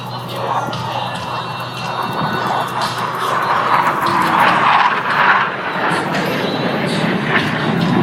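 Blue Angels jets in diamond formation pass over the NAS Pensacola air show, a loud roar that swells and fades across the flight line.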